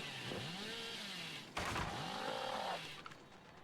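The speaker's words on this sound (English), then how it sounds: "That chainsaw is very close to overheating." Hillbilly's chainsaw in Dead by Daylight, running close to overheating, revs with swooping rises and falls in pitch, then a sudden loud roaring burst before it winds down.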